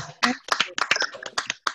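Live audience applause at a community storytelling event, a burst of quick, uneven hand claps in clustered bursts, fairly close and moderately loud.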